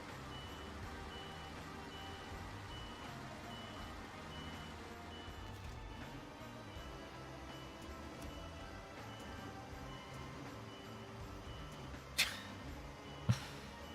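A truck's engine drones steadily while reversing in the game Snowrunner, a continuous low rumble with faint beeping and two brief sharp knocks near the end.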